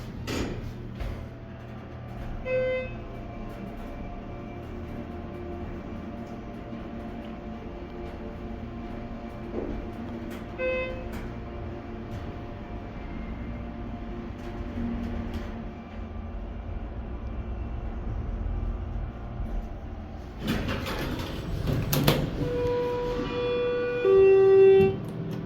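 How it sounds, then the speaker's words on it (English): A Schindler 330A hydraulic elevator runs in a Westbury parking garage: a steady low motor hum with faint chime tones, then a louder rumble and clatter of the doors near the end. "This is the elevator to the Lifetime Athletics parking garage in Westbury."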